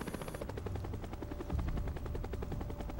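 Helicopter in the Transformers PS2 game, a loud continuous rotor chop with a rapid regular beat, joined by bursts of gunfire-like rattling, close and steady with no voices.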